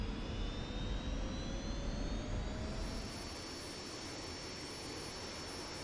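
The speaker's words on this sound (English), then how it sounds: "now it's just a matter of taxiing out to the runway" An F-86 Sabre jet in a flight simulator game taxis toward the runway, its turbine whine a steady, loud drone with high tonal notes that shift slightly as the engine note changes partway through, no voices.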